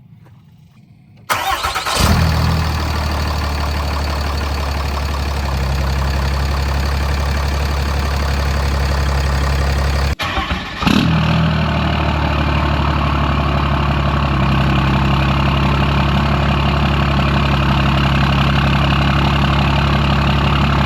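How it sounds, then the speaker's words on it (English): A 6.7 Cummins diesel engine swapped into a truck cranks and starts, then settles into a steady, loud, low idle that continues, with a brief shift partway through. "car's idling, quiet up here."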